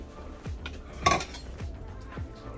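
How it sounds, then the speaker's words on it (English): A utensil stirs barbacoa in a broth-filled pot, making a few scattered clinks and scrapes against the metal, with one louder knock near the middle. The sounds are close and moderately quiet. "And then I'm just gonna stir everything."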